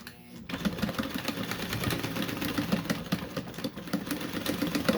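Sewing machine stitching a seam on a fabric tool bag: a steady, close, fast mechanical chatter of needle strokes running continuously for several seconds without talk.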